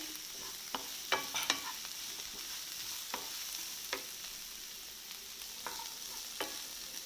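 Clam meat roast with green chillies frying in a pan gives a steady, close sizzle, broken by scattered scrapes and taps of a stirring spoon.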